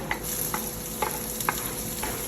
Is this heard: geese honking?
no